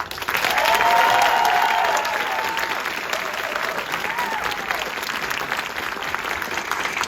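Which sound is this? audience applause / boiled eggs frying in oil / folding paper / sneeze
audience applause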